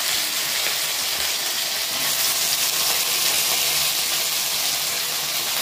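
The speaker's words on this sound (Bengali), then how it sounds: "বন্ধুরা, আলু ভাজা চাপিয়ে দিলাম।" Potatoes fry in a pan in a continuous, loud hiss and sizzle that stays even throughout, with no voices.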